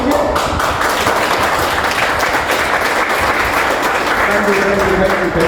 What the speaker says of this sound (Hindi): एक बार सब जोरदार ताली बजाएंगे